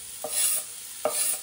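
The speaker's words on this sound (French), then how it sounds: "on va faire dorer tranquillement l'oignon" Onion gently browning in a pan, a soft sizzle with two quick stirring scrapes of a utensil, close and brief.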